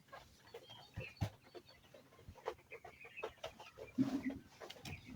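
Chickens on a poultry farm, weakened by cold weather, cluck softly in scattered bursts, with a few sharper calls standing out against a quiet background.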